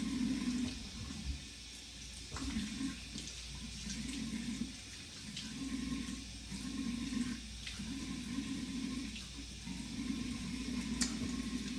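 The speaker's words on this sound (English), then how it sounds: "we're gonna rinse the lips off" Tap water runs into a sink while lips are rinsed, a steady close faucet hiss with recurring lower splashing surges as the hands dip in and out, with no talking.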